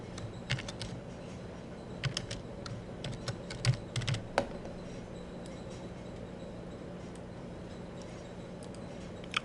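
Typing on a computer keyboard in scattered light clusters of key clicks over a steady low room hum, fairly faint and close.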